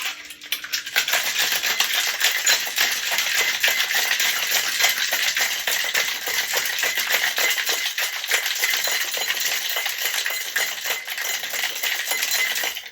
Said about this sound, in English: You want a really good shake here because we've got the egg white in here, so just keep going